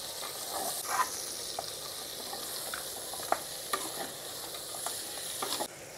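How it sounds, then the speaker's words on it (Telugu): Mutton intestine (aavatila) pieces stirred in a pan for a village-style curry, a spoon scraping and clinking in short irregular strokes over a steady soft sizzle, close up with no voices. "ఆవటిల ముక్కలు మొత్తం వేసేసిన మామని అయితే కలుపుకుందాం ఒకసారి మంచిగా"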